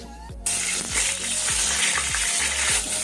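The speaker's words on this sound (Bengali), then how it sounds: "আজকে ভাজাগুলো একটু বেশি তেলেই ভাজছি, ঝটপট হয়ে যাবে।" Vegetable fritters crackle in plenty of hot oil in a wok, a loud dense sizzle running throughout with a regular pattern of low knocking thumps beneath it.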